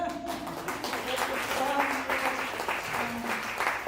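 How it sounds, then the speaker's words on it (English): Applause and clapping ring out from the congregation at a Mother's Day Sunday service at Unity of Buffalo, a steady wash of hands lasting throughout with a voice speaking over it. "I guess I can go ahead and clap"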